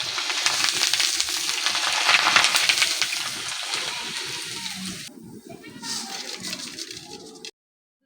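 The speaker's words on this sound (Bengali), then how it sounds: "এইভাবে কিন্তু আমি সমস্ত চালগুলো ভেজে নেব।" Rice fries in hot oil in a strainer for homemade chal bhaja, a loud, dense crackling sizzle close by that slowly fades, with a voice faintly underneath.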